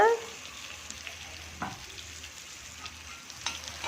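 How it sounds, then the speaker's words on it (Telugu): Onions frying in a pan with a steady soft sizzle, stirred now and then with a few sharp scrapes of a utensil against the metal, close and without talk. "ఈ ఉల్లిపాయలని ఎక్కువగా ఫ్రై అవ్వనివ్వకూడదు, లైట్గా అయితేనే మంచిది"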